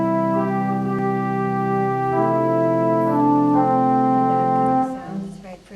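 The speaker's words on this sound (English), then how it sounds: "If I put the oboe on here, I can kind of solo out." A church pipe organ at a Methodist church played with the oboe stop, sustained reedy chords and a soft solo line ringing steadily and fairly loud before fading out, with no talking.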